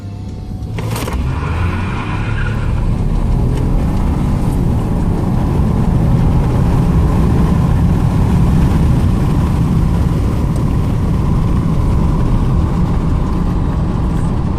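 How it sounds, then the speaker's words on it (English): A 2015 Ford F-150 EcoBoost pickup with an aluminum body accelerating hard from 0 to 60 with some wheel spin: a brief thump, then a loud, sustained engine roar held steady throughout, close to the listener, with no talking. "I'm gonna do a quick 0 to 60 on it just to see what it does"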